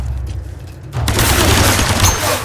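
Gunfire in the video game Tomb Raider: a low rumbling field of shots that swells into a dense, loud, continuous barrage about a second in, sustained to the end.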